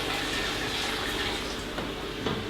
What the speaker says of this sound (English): As you're pouring the last bit out, you'll see the kettle's fairly clean inside.